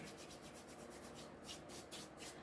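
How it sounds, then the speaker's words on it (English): Palms rub dried thyme, rosemary and parsley together over food, a soft close rasping scrape with a quick back-and-forth rhythm, quiet and heard alone. "I always put it in the palm of my hand and rub it"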